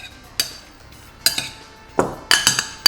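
Tomatoes tossed with a glug of balsamic vinegar in a bowl give a few scattered clinks and scrapes of a utensil against the dish, close and fairly crisp with quiet gaps between them.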